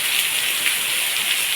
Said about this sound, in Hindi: अलर्ट था कि बारिश है हमारे यहाँ पे।